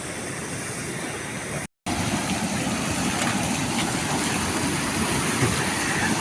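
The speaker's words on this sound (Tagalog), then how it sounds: "Malakas pa rin nung agos ng tubig." Water in a rural irrigation channel rushes strongly past, a steady loud broadband roar heard up close and alone, with a brief dropout near the start.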